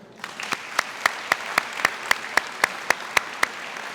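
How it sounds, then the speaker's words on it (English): An audience at a school district convocation claps in unison for new hires, producing about a dozen sharp, evenly spaced claps in a steady rhythm within a large room. "We have one more round of applause for all our new hires."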